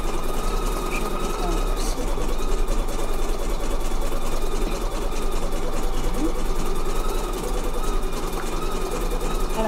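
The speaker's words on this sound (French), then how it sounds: "pendant ce temps, ma machine elle fonctionne" A craft machine runs steadily while Christmas decorations are being made, a continuous mechanical hum with faint rhythmic ticking under a voice speaking throughout.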